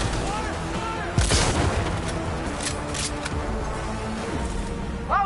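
Gunfire in the video game Cyberpunk 2077 bursts out in a sharp volley with heavy booms and crackling shots over a dense game soundscape, with a voice calling out briefly.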